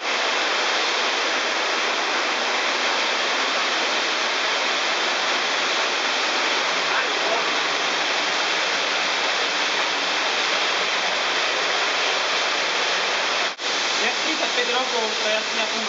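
Water rushing through a cave passage toward a sump, a dense, continuous hiss-like roar that stays steady and loud throughout, with a brief dropout near the end.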